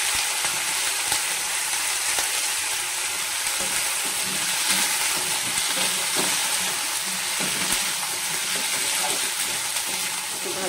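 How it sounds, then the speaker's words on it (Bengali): Cowpeas and potatoes frying with onion in a pan, a steady close sizzle with faint stirring clicks throughout. "সবজিটা একটু ভেজে নিতে হবে, তাই এর মধ্যে দিয়ে দেবো লোবিয়া থেকে আলু থেকে"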